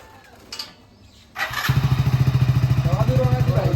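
A motorcycle kicks into life after a couple of brief sounds and settles into a loud, rapidly pulsing engine putter close by, revving steadily as it pulls away, with voices talking over it.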